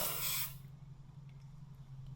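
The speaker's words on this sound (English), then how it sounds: "I got some engine degreaser. Go ahead and spray that on there so we can have a good clean surface area." An aerosol can of engine degreaser sprays onto a go-kart engine mount in a workshop, a loud close hiss for about half a second that cuts off into quiet.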